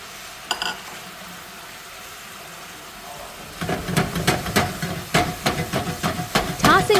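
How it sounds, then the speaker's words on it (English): Mongolian beef sauce in a pan, a quiet hiss at first, then louder bubbling and sputtering with repeated clicks and scrapes from about the midpoint, close and fairly loud, no talk. "Let it bubble gently for about 2 minutes."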